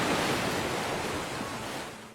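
Broad, steady ocean surf roars without a break, a dense wash of breaking waves close by that fades slightly toward the end, with no voices over it, set in an anime sea scene where a girl is dragged off by the waves.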